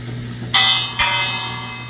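A village bell rings in Minecraft, two bright metallic strikes about half a second apart, each leaving a sustained shimmering ring that slowly fades over a steady low background hum.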